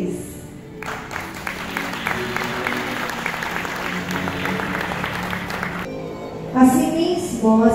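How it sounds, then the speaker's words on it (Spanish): Guests applaud steadily for several seconds as the groom enters a wedding ceremony, moderately loud and even, before a voice and music take over near the end. "Un aplauso para el novio."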